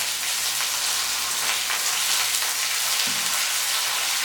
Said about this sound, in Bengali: তেল গরম হলে দিয়ে দিচ্ছি ফোড়নে কালো জিরে, রাঁধুনি, দিয়ে দিলাম পেঁয়াজ কুচি